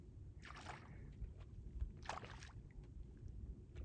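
Striped bass on Lake Mead feeding on shad, breaking the surface in a couple of quick, faint splashes a short way off over a low steady background.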